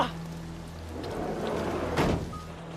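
Steady hiss of heavy rain falling, fairly faint, with a brief dull thump partway through.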